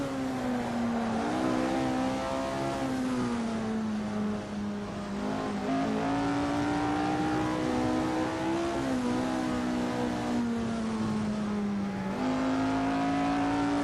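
Screaming 1965 Formula 1 race car engines in Assetto Corsa, a steady high-pitched whine rising and dipping through gear changes as the cars duel closely for position, loud and continuous throughout.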